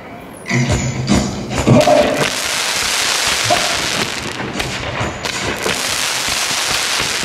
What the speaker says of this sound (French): vont venir recouvrir Jean-Luc tel un dôme de feu